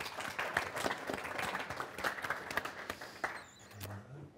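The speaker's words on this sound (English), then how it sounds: "Give her a little applause there" A modest round of applause from a breakfast-event audience, scattered, fairly quiet claps that thin out and fade toward the end.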